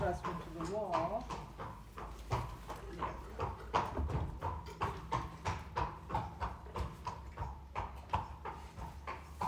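Horse moving about, a steady run of close hoof clops on the ground in an irregular walking rhythm, with a person talking softly over it.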